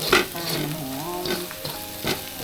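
Spicy chicken with chili stir-fried in a pan at a campsite, a steady close sizzle broken by repeated scraping stirs of the spatula at an even rhythm.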